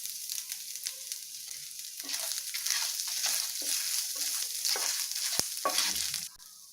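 Cashews, coriander seeds and grated coconut dry-roasting in a pan, a close scraping stir with a light sizzle running continuously and fading out at the end.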